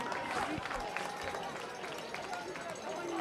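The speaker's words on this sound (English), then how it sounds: "to cheers from the crowd" A crowd at a soccer match between Sonoma Sol and Napa Valley 1839 FC gives faint cheers and applause, heard from a distance beneath a commentator's voice.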